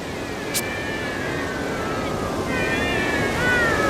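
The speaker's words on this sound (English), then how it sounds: "I don't think cats like having their noses tickled, Idia." A cat meows in the handheld game Bravely Second End Layer, a couple of thin rising cries over a steady hiss of ambient background sound.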